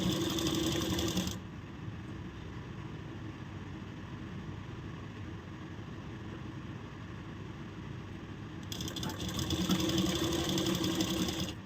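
Sewing machine stitching blouse fabric for an off-shoulder blouse, running as a steady continuous whir, with a brief pause and then a restart near the end, close and fairly loud, no talking.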